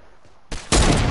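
Gunfire in the video game Fortnite, a brief loud shot followed almost immediately by a dense, sustained burst of sharp, overlapping reports.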